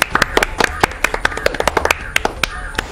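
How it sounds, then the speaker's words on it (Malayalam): An audience at a quiz claps after a correct answer: a burst of sharp, uneven claps from a small group, close and lively, lasting about three seconds. "എല്ലാവരും മിന്നക്ക് ഒരു ക്ലാപ്പ് കൊടുക്കോ."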